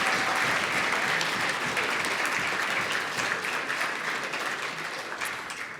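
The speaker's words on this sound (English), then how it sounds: "can we have a round of applause for Marcin, Conla and the wider team who pulled us all together today?" A conference audience gives the organising team a sustained round of applause. Many hands clap together in a dense, loud, continuous roar that tapers off slightly toward the end.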